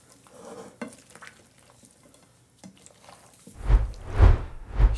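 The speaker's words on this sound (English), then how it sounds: "And then we'll give it a quick stir. Quick toss gently so everything gets coated." Tortellini salad is tossed and stirred in a bowl, starting as soft scattered clinks and scrapes and then building into louder, rhythmic mixing sounds near the end.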